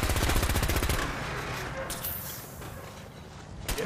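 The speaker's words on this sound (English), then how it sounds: "Who the hell shot me? Oh, of course, a turret." A Fallout 4 turret fires a rapid, steady stream of automatic shots up close, then cuts off, leaving a low rumble of ambience and a faint clank near the end.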